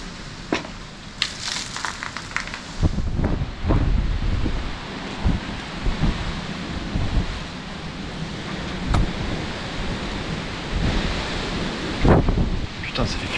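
Strong gusting wind at a farm abandoned for decades buffets the microphone in uneven surges, with scattered knocks and thumps from things moving around it and no speech.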